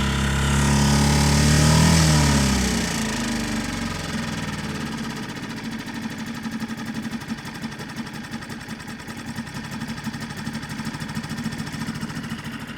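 A Hangkai 6.5 hp four-stroke outboard motor idles steadily after a louder start-up surge, settling into an even, close, pulsing drone with no talking.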